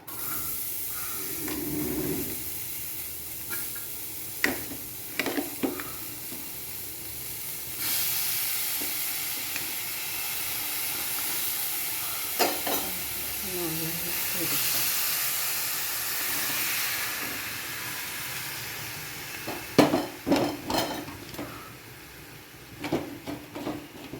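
Chopped elephant foot yam sizzling in a hot pan, a steady loud hiss of frying that swells as the pieces go in, with occasional clatters and knocks of utensils.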